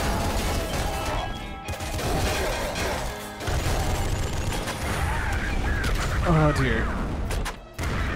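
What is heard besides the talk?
gunfire in the Nuclear Throne video game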